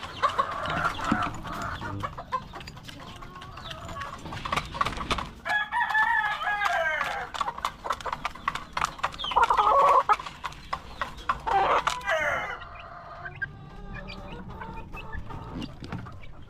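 Young chickens, once chicks and now nearly grown, cluck and call in a fairly loud, continuous stream, with a few crowing-like squawks partway through and no talk over them.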